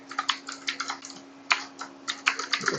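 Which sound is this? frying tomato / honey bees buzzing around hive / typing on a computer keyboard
typing on a computer keyboard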